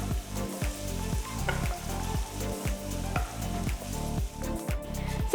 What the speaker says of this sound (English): So first we're going to saute the ginger and garlic.